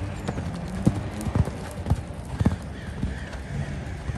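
Hooves of a gaited horse clip-clop in a steady canter during a lameness and vet check, regular close thuds on ground with faint background noise.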